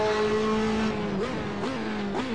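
A Ferrari 458 GT2 race car engine in Assetto Corsa holds a high-pitched, loud scream, then rises through quick gear shifts, each upshift giving a short dip in the whine before it climbs again.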